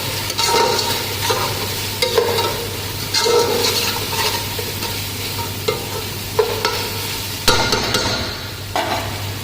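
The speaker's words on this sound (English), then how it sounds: "So I already added all these spices which I showed you, like coriander powder, this cumin powder, black pepper, little salt, and mix well." Spoon stirring coriander powder, cumin powder, black pepper and salt into ginger garlic paste in a pressure cooker, with repeated scraping strokes over a steady frying sizzle and a low background hum.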